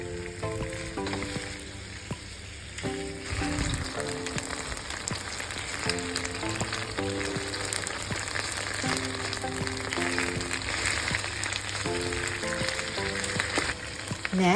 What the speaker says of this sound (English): add in the chicken pieces. And then cook until they are all lightly browned.